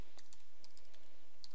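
Keyboard typing during WordPress site setup: a short run of light, quick clicking keystrokes, close and faint over a quiet background, with no talking.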